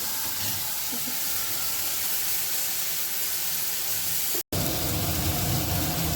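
Spices frying and sizzling in a pan while spinach and potato curry masala is being cooked, a steady loud hiss throughout with a brief dropout near the end.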